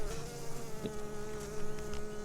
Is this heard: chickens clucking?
no